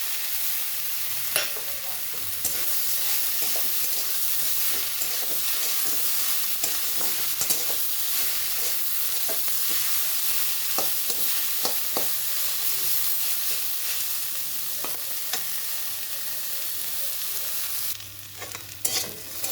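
Fenugreek greens fry with fried eggplant lentil dumplings in a pan, giving a steady close sizzle broken by repeated stirring scrapes, with no voices.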